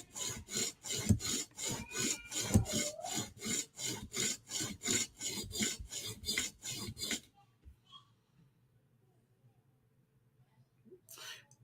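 A chisel is scrubbed back and forth on a flat sharpening stone, giving a rapid, steady rasping rhythm for about seven seconds, with a voice audible faintly over it, then near silence.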